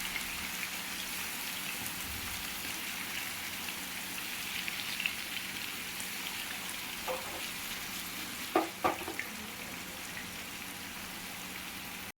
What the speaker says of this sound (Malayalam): നമുക്ക് കുറച്ചായിട്ട് നമുക്ക് വറുത്ത് കോരി എടുക്കാം